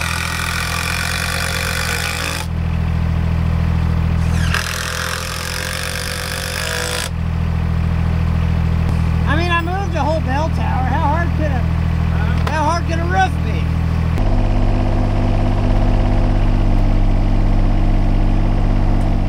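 A John Deere 755 compact tractor engine runs steadily throughout, a low constant drone with a shift in pitch near the end, while people talk over it in the middle.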